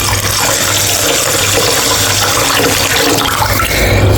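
Water runs and pours steadily for several seconds, a loud close splashing flow into a container of rice set to soak for dosa batter.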